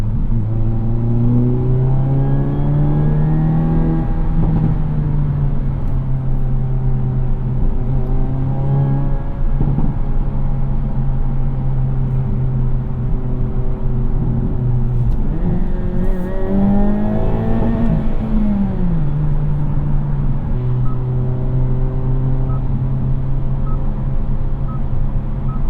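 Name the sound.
2022 Hyundai Elantra N engine revving while driving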